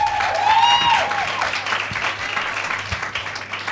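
An audience claps for a gospel shout band, steady crowd applause with a brief whistle near the start, tapering slightly toward the end.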